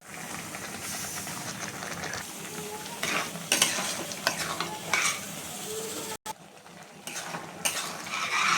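Chopped dry fruits and khoya being roasted in a hot pan, with continuous frying hiss broken by repeated scraping and stirring strokes against the metal, some louder bursts midway and a brief drop near the end.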